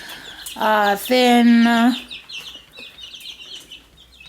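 Two-week-old broiler chicks on a Kenyan farm give loud, close cheeping calls for about a second and a half, then fainter scattered peeps and rustling, with a brief spoken word.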